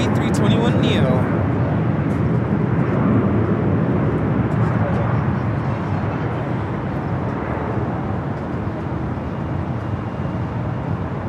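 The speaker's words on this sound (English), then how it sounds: "Delta Airlines 867, taking off to Orlando, Florida on the A321neo." A Delta Airlines Airbus A321neo roaring down the runway on takeoff at Los Angeles International Airport, a loud, steady broadband jet rumble that eases slightly as it continues.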